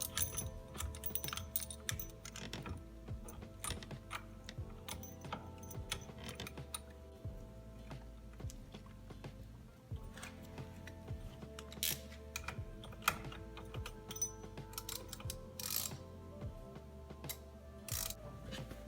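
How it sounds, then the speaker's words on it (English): Ratcheting clicks of a steering wheel puller bolt being tightened down on a Pontiac Fiero, arriving as dense, rapid mechanical ticks that carry steadily through the whole stretch, close up and with no voices. "we just tighten this bolt down and it'll take the steering wheel right off."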